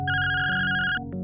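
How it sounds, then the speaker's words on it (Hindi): A telephone ringtone plays loud and close, a sustained bright electronic tone lasting about a second before cutting off. "लेकिन तभी उसके मालिक का फोन आ जाता है।"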